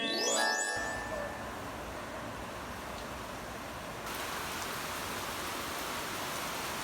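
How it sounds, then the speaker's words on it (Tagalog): Heavy rain in La Union, Philippines pours steadily as a dense, constant hiss, with a brief clink at the very start and a slight surge partway through. "Sobrang lakas nga ng ulan ngayon guys, kaya stay safe."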